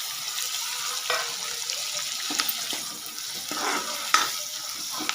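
Tomatoes and onion sautéed in a pan for a mung dal curry give a soft, steady sizzle, broken by light scraping and stirring clicks.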